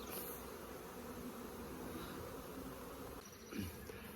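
Honey bees swarm around open hive boxes in a bee yard, making a dense, steady buzz that fills the whole stretch, with a few individual bees flying close past now and then.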